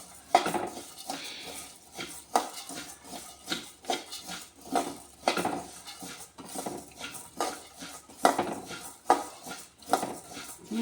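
Rice and dal are dry-roasted in a pan over medium heat. A spoon stirs with repeated scraping and clinking strokes in an uneven rhythm, close and moderately quiet, and there is no talk.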